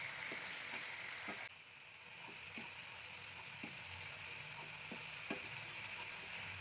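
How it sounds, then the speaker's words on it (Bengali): Onion paste fries in a pan for egg biryani, a quiet even hiss with a light regular scrape-and-tap of stirring every second or so, close, no voices. "একটা বড় সাইজের পেঁয়াজ বাটা দিয়ে দেব। ভালো করে ভেজে নিচ্ছি।"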